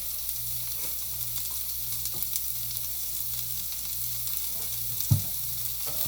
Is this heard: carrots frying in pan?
yes